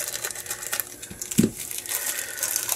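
A packaged Aoyue 888A digital soldering station being unboxed, with close crinkling and rustling of packing material and a single sharper bump partway through, fairly quiet and with no talking.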